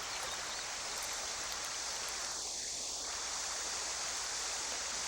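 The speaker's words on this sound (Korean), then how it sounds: "모래 자갈이 깔리고 지천에 새물이 들어오는 얕은 개울" Shallow stream running over sand and gravel where a tributary feeds fresh water in, a steady soft hiss of flowing water throughout, even and fairly faint.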